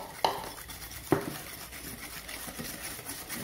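A whisk or spoon clinks against a bowl while tiramisu cream is beaten by hand, with two sharp knocks near the start followed by quieter, steady scraping and stirring.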